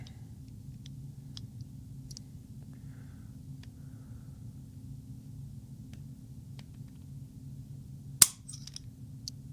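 1911 pistol trigger pulled against a trigger pull gauge, one sharp metallic click near the end after a long quiet stretch of low room hum and faint ticks.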